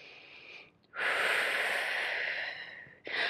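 Heavy breathing during a forearm plank in an ab workout, with a short inhale, a pause, then a long loud rasping exhale held for about two seconds before another breath begins, close and with no talk.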